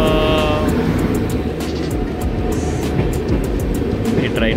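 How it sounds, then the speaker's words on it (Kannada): Shatabdi Express train pulling into a station, a loud steady rumble of wheels and carriages running throughout with repeated clacking over rail joints and a brief high tone at the start. "ಟ್ರೈನ್ ಬಂತು."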